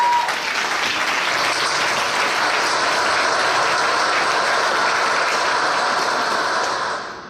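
A crowd at an anniversary celebration for a Martin Luther King Jr. commission applauds themselves, a thick sustained roar of clapping that holds steady for several seconds before tapering off at the end.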